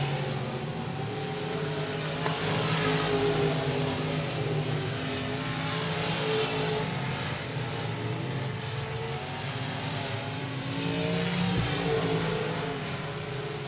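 Limited modified race cars circling a tacky speedway oval, heard as a continuous dense engine roar from several cars that swells and fades slightly as they pass, steady and loud throughout.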